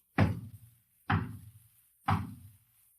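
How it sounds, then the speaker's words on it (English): Three firm knocks on a door, evenly spaced about a second apart, staged as a radio drama sound effect; each is a close, hollow thud that dies away quickly before the next, with silence in between. "There was a knock at the door."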